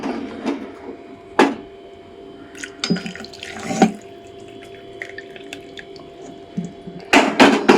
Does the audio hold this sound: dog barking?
no